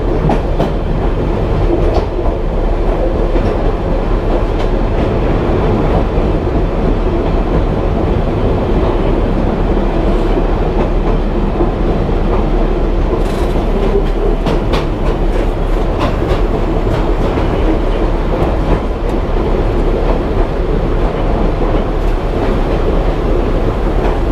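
Savannahlander train runs through a tunnel near Kuranda, a continuous close rumble with rhythmic clickety-clack of wheels on rail joints, loud and steady with no talk.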